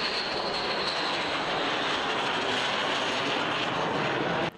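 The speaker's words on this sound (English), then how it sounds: "Imagine a night launch from a carrier deck, the ocean invisible below, the jet accelerating into darkness as the deck drops away." Fighter jet launching from an aircraft carrier deck at night, a loud continuous roaring rush of jet engine noise that holds steady throughout and cuts off abruptly at the end.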